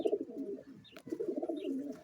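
Low, throaty pigeon coos roll on continuously for two seconds, close and fairly loud, with a short break partway through.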